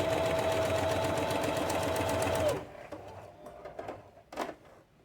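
Sewing machine stitching a fabric pouch runs in a fast steady mechanical whir for about two and a half seconds, then stops, leaving soft handling clicks and rustles.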